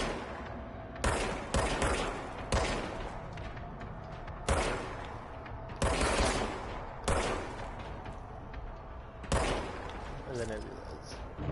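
Gunshots from a gun in the video game Control crack out one at a time at irregular intervals, sharp and close, with a voice talking in the background.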